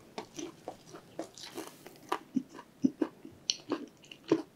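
Close, crisp crunching and chewing of Maxicana's spicy carbonara fire chicken with tender meat, in a mukbang: repeated bites and chews in an irregular rhythm, with no talking.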